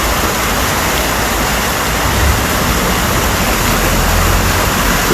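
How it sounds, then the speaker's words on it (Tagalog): Floodwater rushes and roars through Benguet in a dense, continuous torrent, loud and close with no letup across the whole stretch. "agos ng tubig talaga, maagos na maapaw na siya, medyo umaakyat na"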